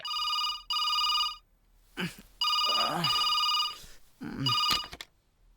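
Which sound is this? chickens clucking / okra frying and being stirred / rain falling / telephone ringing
telephone ringing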